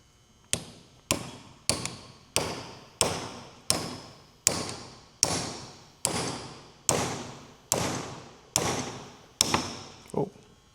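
A steady series of about a dozen sharp metallic hammer taps on a grease fitting being driven into a Jeep ball joint, evenly spaced at roughly one per second, close up with no talking.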